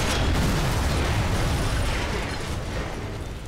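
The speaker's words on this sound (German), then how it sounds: "Laster zerstört, Leute." A truck blowing up in the video game Sniper Elite 4, a loud, dense broadband blast that stays heavy and rumbling for several seconds before slowly easing off, with no voices over it.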